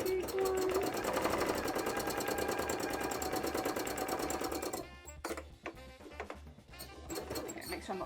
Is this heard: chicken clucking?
no